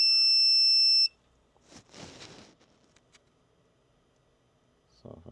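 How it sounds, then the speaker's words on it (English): Steady electronic continuity beep from a multimeter as its leads touch a pad on a 1992–97 Ford F-Series truck instrument cluster circuit board: one loud tone about a second long, then faint handling noises and a brief clatter. "Test your leads, listen for the beep."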